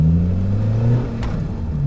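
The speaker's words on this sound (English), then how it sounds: "Let's try to get more clips of me, I guess, going through gears." Acura TSX with a Hybrid Racing shifter, engine droning steadily up close with low rumble as it runs through the gears, pitch shifting once partway through; no talking.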